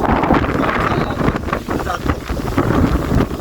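Heavy rain and a wind storm on the Koyna river, a loud, unbroken roar of wind buffeting close by with rushing water beneath it and no voices.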